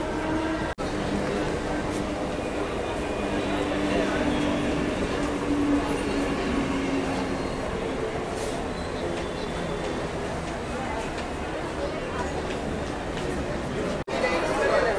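A Mumbai slow local train bound for Churchgate sits at platform 5 of a crowded station, its steady rumbling drone continuous under the loud chatter of many people, with two sharp clicks.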